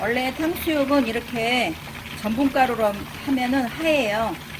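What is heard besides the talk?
No everyday noise stands out behind the speech.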